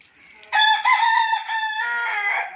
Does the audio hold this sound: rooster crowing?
yes